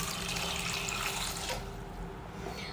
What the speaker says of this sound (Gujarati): અને એની સાથે પાણી એડ કરી દઈશું